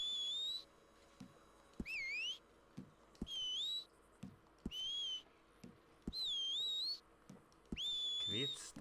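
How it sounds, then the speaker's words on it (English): A character whistles in Red Dead Redemption 2, repeating a rising-and-falling whistled call about five times with pauses between, over faint background ambience and occasional soft thuds. "Whistle."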